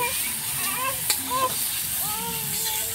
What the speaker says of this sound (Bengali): তো এখন টমেটোটাকে নেড়ে চেড়ে আমি সুন্দর করে ভেজে নেব